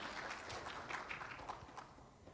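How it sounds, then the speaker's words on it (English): Applause from a town hall audience greeting a panelist, a steady, moderately loud wash of many hands clapping throughout without pause. "Give a big applause for him."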